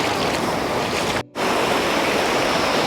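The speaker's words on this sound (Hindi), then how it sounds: "और ये हम नदी पार कर रहे हैं, ये देख सकते हो आप।" A river rushes steadily as someone wades across it on foot near a hill-country waterfall, with a broad, continuous splashing roar that cuts out briefly midway, then resumes just as loud.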